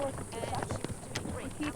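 Horses' hooves clip-clop steadily up a mountain trail on a horseback ride toward the Tetons, a continuous rough plodding rhythm close by with some wind and movement noise.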